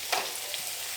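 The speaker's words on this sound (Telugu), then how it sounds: "టమాటాలు అన్నీ ఒకసారి మళ్ళీ ఇవన్నీ కలిసేలా ఫ్రై చేసేయండి." Chillies, capsicum and tomatoes fry in a pan for a homemade pasta dish, making a close, steady, hissing sizzle.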